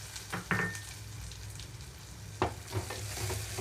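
Grated fresh coconut and chopped dry fruits frying in ghee for a lotus seed makhana kheer, with soft sizzling and a few brief stirring scrapes, one louder clatter near the start and another past halfway.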